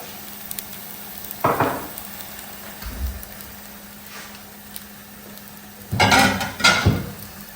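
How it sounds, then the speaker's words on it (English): A ripe plantain tortilla frying in a pan with a little oil over medium heat, a soft steady sizzle broken by several louder clattering bursts of pan or utensil contact, the loudest near the end. "We'll go ahead and just put our tortilla in the pan."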